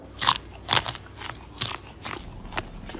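Close, crisp bites and crunchy chewing on freshly baked banana bread, a series of sharp crunches in an irregular rhythm with nobody talking.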